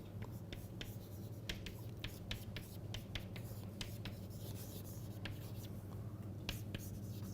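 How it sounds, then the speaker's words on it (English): Chalk or marker scratching out strokes on a board during a math lecture, a steady series of short taps and scrapes over a low room hum, faint and without talking. "let me just write here"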